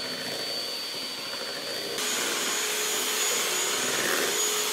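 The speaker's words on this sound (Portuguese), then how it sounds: "E agora eu vou bater bem até ficar homogêneo." An electric mixer beats passion fruit and strawberry mousse ingredients with powdered milk, a loud continuous whirring drone that jumps to a higher, stronger pitch partway through and runs without speech.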